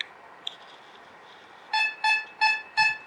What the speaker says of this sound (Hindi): beep beep beep beep beep beep beep, चांदी का साउंड ही अलग होगा